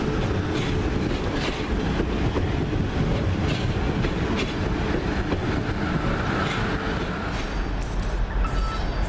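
A train runs through Basingstoke station with steady, loud rumble and clickety-clack of wheels over rail joints, continuous throughout and close by, with no talking.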